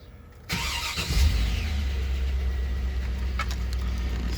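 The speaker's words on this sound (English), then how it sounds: "Alright, I'm going to start the truck." A 2003 Chevy 2500 truck engine cranks and catches about half a second in, surges briefly, then settles into a steady, low, close idle that continues to the end, with a few light clicks on top.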